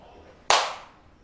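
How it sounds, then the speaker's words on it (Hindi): A single sharp hand clap used to count tabla beats, close and crisp with a short fading ring in a quiet room. "ये जो ताली बजा रहे ये बीट है।"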